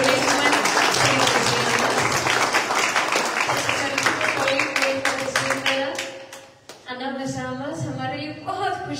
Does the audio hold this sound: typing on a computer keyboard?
no